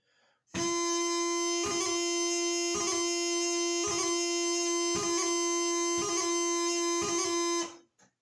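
Bagpipes play a sustained drone while the chanter repeats an E doubling ornament at full speed about seven times at an even pace, bright and steady.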